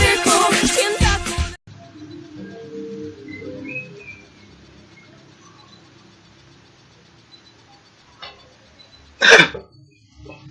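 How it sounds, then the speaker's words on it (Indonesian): A person coughs and clears their throat in a loud, rough burst lasting over a second, then falls quiet before one more short, sharp cough near the end. "batuknya paranormal loh"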